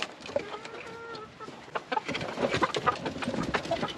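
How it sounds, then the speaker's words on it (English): A rooster and Leghorn hens cluck and call near a backyard coop, with overlapping clucks, short squawks and a few sustained crowing-like tones, fairly close and continuous. "and there's our rooster"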